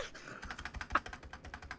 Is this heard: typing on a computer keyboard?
yes